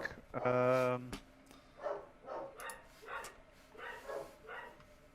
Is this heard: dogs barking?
yes